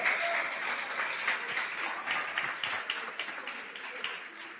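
A church congregation claps together during a sermon, a dense, steady applause that holds at a moderate level throughout without anyone speaking.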